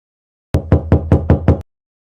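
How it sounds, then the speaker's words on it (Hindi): Six firm, evenly spaced knocks on a house door ring out loud and close, then stop, followed by silence; a horror-story sound effect with no voices. "और एक घर का दरवाजा खटकाने लगती है।"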